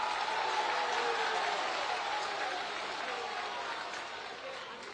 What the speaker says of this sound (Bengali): সন্টুর জন্য হাততালি হয়ে যাক।